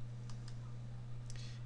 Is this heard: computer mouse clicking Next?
yes